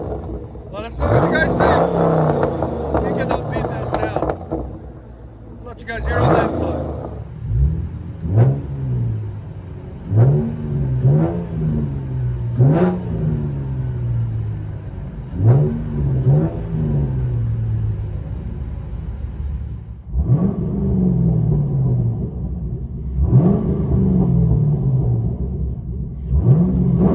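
A 2014 Chevy Camaro RS with a 3.6L V6 revs in repeated sharp blips that rise and fall, loud and close, with a sustained rumbling idle between bursts.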